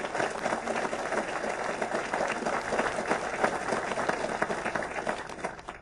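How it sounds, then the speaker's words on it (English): Audience applause at a veterans home groundbreaking ceremony in Lebanon, a dense, steady wash of clapping from a sizable crowd that holds at a fairly even level for several seconds with no talk over it. "Let's give them a round of applause."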